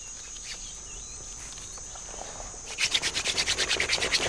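A wooden hand drill is spun against a fireboard to light a fire, starting as a soft scraping and building into a fast, rhythmic rasping rub, near and fairly loud, with insect-like hiss in the background.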